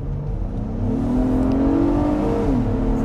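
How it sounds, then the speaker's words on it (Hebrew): An Acura MDX engine revs up loudly and close, its pitch rising steadily and then dropping as it eases off, with no voices. "אני לא זוכר מתי שמעתי מנוע נובח ככה"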